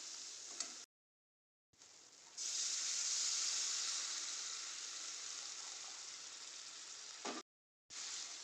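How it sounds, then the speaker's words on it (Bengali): Water poured into spice mix frying in a pan, bringing a loud sustained sizzle that flares up and slowly fades, broken by two short silent cuts, with no talk. "এবার আমি এতে জল দিয়ে দেব।"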